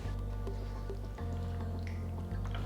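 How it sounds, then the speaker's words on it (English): Aloo bhuna masala gets a quick stir with about a quarter cup of water in a kadai, giving soft wet squishing and dripping sounds over a steady low hum. "Just give this a quick mix."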